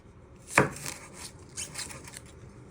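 A knife chopping spring onions on a board, one sharp close chop near the start followed by several softer cuts, quiet with no talk.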